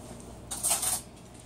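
A small spoon stirs inside a pot of thick concentrated blackberry, raspberry, ginger and echinacea lemonade, giving a brief burst of light metallic scraping and clinking in the middle, faint and close, with no talk.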